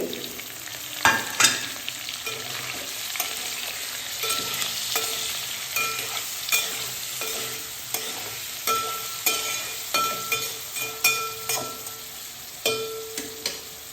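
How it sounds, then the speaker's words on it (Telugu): Chopped onions and green chillies frying in a pan, crackling sizzle under repeated rhythmic scrapes and knocks of a spatula stirring them, close and without speech. "ఇప్పుడు దీంట్లో ఉల్లిపాయలు పచ్చిమిరకాయలు వేసుకుంటున్నాను"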